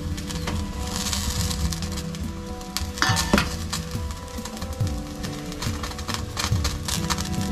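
Whole tomatoes roasting on a roti net over a gas flame, giving a steady crackling sizzle with occasional sharp pops and light metallic clinks close by, no talking.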